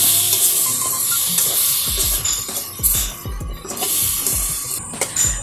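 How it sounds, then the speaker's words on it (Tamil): Chilli powder sautéed and stirred in a pan over a smoky wood-fired stove, with a steady close sizzle and repeated scraping, clattering stir strokes. "மிளகாய் தூள் ஆட் பண்ணுறாங்க நல்லா வதக்குறாங்க"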